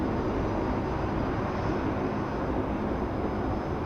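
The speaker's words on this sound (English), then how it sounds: "Bit of A350 action over there on the western part of the international terminal." An Airbus A350 at Sydney Airport gives off a broad, continuous jet engine roar that holds steady and fairly loud from a distance, with no voices.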